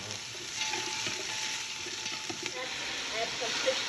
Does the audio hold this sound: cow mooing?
no